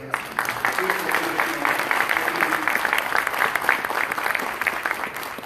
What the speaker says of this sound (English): How about one more big round of applause there?